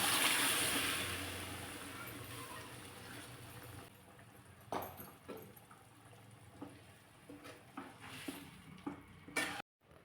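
Cooked cowpeas and potatoes are stirred into a sizzling sautéed masala in a pan, with soft frying hiss early on, then a series of scraping, clattering stirring strokes up close, and faint talk.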